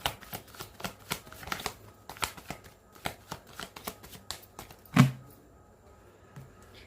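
Tarot cards being shuffled by hand, a rapid series of close, crisp riffling flutters and slaps with one sharper thump near the end, no voices over it.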